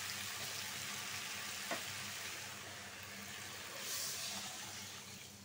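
Curry simmers and sizzles in a pan after broth is poured in, a steady close frying hiss throughout with a brief clink and a swell of bubbling near the end.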